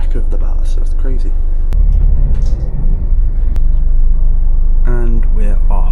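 A bus engine rumbles low and steady as the bus pulls away on the road toward Nicosia, with a loud, continuous drone and a brief hiss partway through, while people talk over it.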